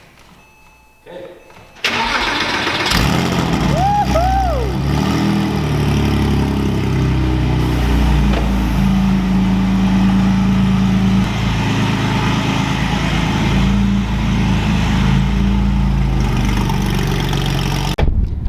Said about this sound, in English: take it out for its first drive with the new Fab Speed exhaust